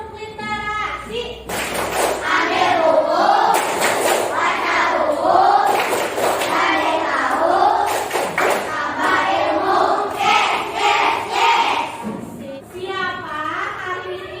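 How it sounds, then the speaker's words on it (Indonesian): A classroom of children performs a rhythmic literacy clap chant, sharp hand claps punctuating their loud unison chanting voices in a steady pattern for the whole stretch. "Sekarang kita tepuk literasi dulu."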